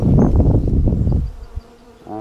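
Honey bees buzz loudly and densely at close range during a beehive inspection with a smoker, the swarm drone fading after about a second and a half to a quieter hum with a brief louder buzz near the end.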